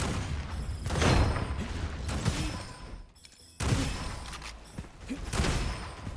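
Repeated heavy shotgun blasts from a video game, loud booming bursts in two clusters with a brief quiet gap near the middle, no talk over them.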